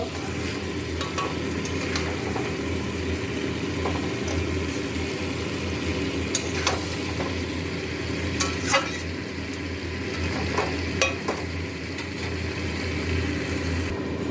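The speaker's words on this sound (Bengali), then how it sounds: "এই যে ডিম ঝোলটা ফুটছে" Egg curry simmering in a pan on the stove, a steady, close bubbling and sizzling with scattered soft clinks and stirring scrapes across the whole stretch, no one talking.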